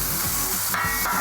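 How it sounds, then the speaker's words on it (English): Steady sizzling of potatoes frying in hot oil, a continuous crackly hiss with a couple of brief scraping stirs. "I heard that sizzle. We're gonna let this sizzle down a little bit."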